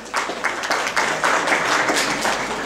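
Audience members at a university lecture forum clap in a sustained, fairly close round of applause that carries on evenly for a few seconds without any speech over it.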